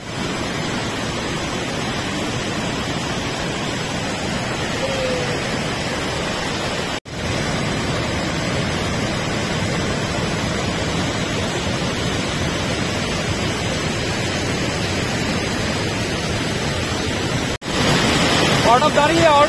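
A waterfall stream on the Annapurna Base Camp trek, swollen with early monsoon water, gives off a loud, steady, close-up roar of rushing water that holds unbroken for the whole stretch.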